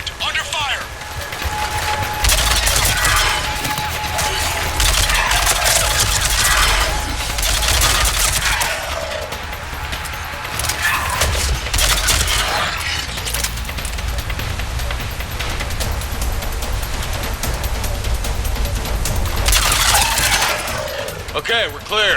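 A Mass Effect 3 firefight with sustained bursts of automatic gunfire and overlapping shots, loud and dense throughout, punctuated by heavier blasts while characters speak over the combat.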